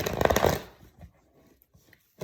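A deck of cards being shuffled, a short burst of riffling and flapping up front that trails off into soft scattered taps and a final brief rustle, close and fairly quiet, with no talking.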